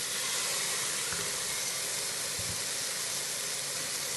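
Ginger garlic paste sizzles in a pot of mutton soup, a continuous, even hiss of steam and frying that runs unbroken and fairly loud throughout.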